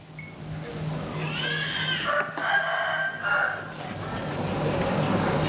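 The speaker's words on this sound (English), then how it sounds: "As it turns out that these are fighting roosters." A fighting rooster crows loudly nearby in Cambodia, a drawn-out call, followed by softer clucking from the birds against a low background hum.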